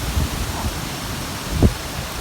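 Strong wind gusts across an open rural spot ahead of a rainstorm, a broad rushing roar with buffeting rumbles against the microphone and a brief thump near the end; no one speaks.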